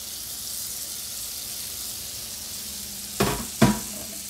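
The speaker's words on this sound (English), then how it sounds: "So my pan is hot. So I'm going to add my butter in here." Butter hitting a hot pan gives a steady, broadband sizzle that holds throughout, with two short louder clinks of a utensil or pan near the end.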